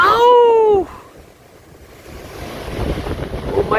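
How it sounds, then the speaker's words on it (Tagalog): Strong typhoon wind buffets a house during a storm, roaring gusts that batter the microphone, briefly easing before swelling again, with a voice exclaiming at the start. "Bagyo. Lakas ng hangin."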